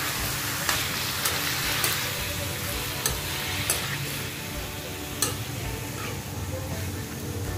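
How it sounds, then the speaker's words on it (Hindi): Tomatoes frying with green chilies in a pan for tomato rice, a dense steady sizzle with periodic spatula clicks and taps as the mixture is stirred, no voices heard. "अब हम इसके अंदर टमाटर डाल देंगे। टमाटर को भी अच्छा मिक्स कर लेंगे।"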